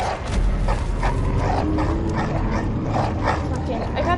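Growling and barking of an attacking dog in the video game Bloodborne, heard as repeated yips and whimpers mixed into dense, continuous game noise and muffled voice throughout.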